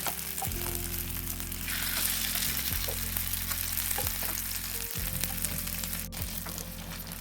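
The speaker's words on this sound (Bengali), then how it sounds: "এরপর আলু আর গাজর মাখাটা এই তেলের মধ্যে দিয়ে দিতে হবে" A potato and carrot mixture frying in a little mustard oil in a pan sizzles steadily and closely, with a low droning hum running underneath and a few faint clinks.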